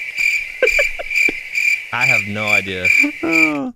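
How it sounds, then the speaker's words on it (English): Crickets chirp in a steady, high pulsing rhythm, with people talking over them partway through. "Crickets?"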